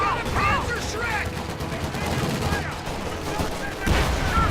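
Battlefield gunfire in the Company of Heroes 2 Ardennes Assault campaign on PC, a steady din of rifle and machine-gun fire with distant explosions, mixed with game voices and shouting.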